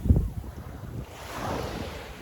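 Waves wash onto Al Soufah beach in Dubai, a soft, continuous surf with gusty wind buffeting the microphone and a short thump at the start.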